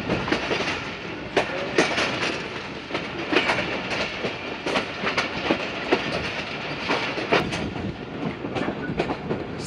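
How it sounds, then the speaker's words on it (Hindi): Sialkot Express passenger train running out of Lahore toward Shahdara Bagh Junction in the early morning, wheels clattering in uneven clickety-clack bursts over steady rumbling, heard from on board, with no talking. "सियालकोट एक्सप्रेस लाहौर के बाद अपना पहला स्टॉप करने जा रही है शादरा बाग जंक्शन रेलवे स्टेशन।"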